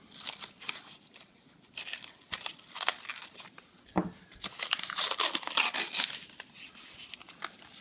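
A paper penny roll wrapper is torn open close up, with bursts of crinkling, ripping paper and rustling handling over several seconds, fairly quiet and with no talking.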